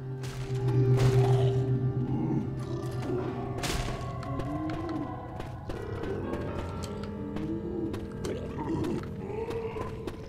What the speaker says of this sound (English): Can hear a boomer